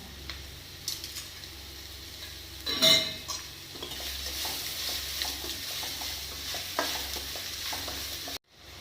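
Tomatoes sauté in a pan for a broad bean stir-fry, a steady sizzle broken by repeated spatula scrapes and clinks, with a louder clatter midway before the sound cuts off abruptly.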